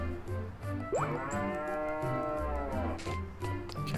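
A cow moos in the Harvest Moon 3D: A New Beginning farming game, one long drawn-out low moo over steady game music, loud and clear with no talking.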